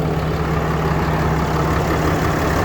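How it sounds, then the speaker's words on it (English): A 2016 Ram 3500 pickup with 530k miles idles steadily, a loud, even low engine rumble with a constant hum and no voices over it. "See how steady that truck runs? It's really steady."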